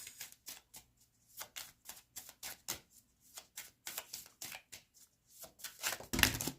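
Tarot cards shuffled and drawn by hand in a quiet room, a steady run of crisp riffling flicks and slaps with a brief louder shuffle burst at the end, close and clear with no talking.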